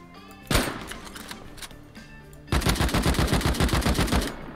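Rust video game gunfire during a clan base raid: a single loud shot, then a sharp rapid burst of automatic rifle fire, close and punchy, with no talking.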